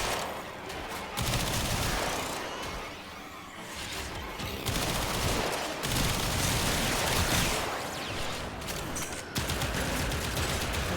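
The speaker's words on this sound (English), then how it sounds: "A little bit of gun action again." Gunfire in the video game Mesa Prime: dense, continuous bursts of automatic shots and crackling impacts fill the scene loudly, with only brief dips between volleys.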